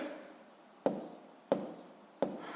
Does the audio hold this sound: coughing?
no